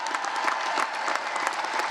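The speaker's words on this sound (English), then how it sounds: "Let's give her a big round of applause" A commencement audience applauds steadily for a graduating student, dense continuous clapping at moderate volume throughout, with no voices over it.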